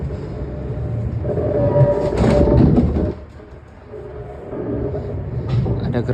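The Mutiara Timur passenger train running past on the tracks at a station, a loud, steady close rumble of wheels and carriages that briefly dips before swelling again.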